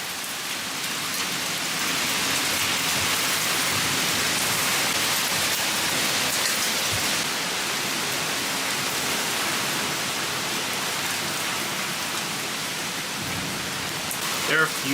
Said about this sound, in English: I love the sound of rain on the roof.